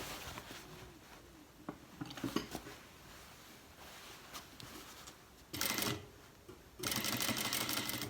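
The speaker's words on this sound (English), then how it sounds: "do another row of stitching 5 millimeters away from your previous" Top stitching on a cargo pants waistband is sewn by machine in short separate bursts, with two longer loud runs of stitching near the end and quiet handling noises between them.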